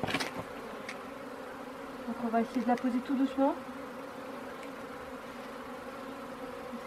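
A steady drone of honey bees buzzing around a Warré hive in February, with someone speaking quietly in French in a short burst of talk over it.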